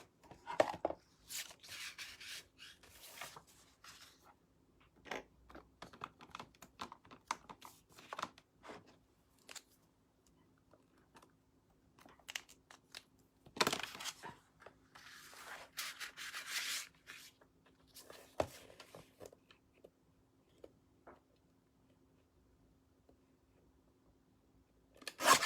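Paper is trimmed for a mini album, a faint series of sliding, scraping cutter strokes and rustles in irregular bursts with quiet gaps between them.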